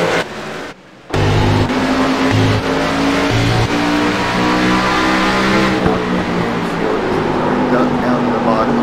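NASCAR Xfinity Series race cars circling the track at Richmond, a loud continuous engine roar with steady droning and shifting pitch as cars pass, preceded by a brief dropout near the start.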